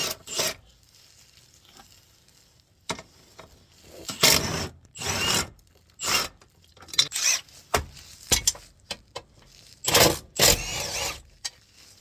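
A bolt on a rock slider bracket of a 4th-gen Toyota 4Runner is loosened with a ratchet on a swivel extension adapter. Repeated short ratcheting rasps come in bursts, close and fairly loud, with quiet gaps between them.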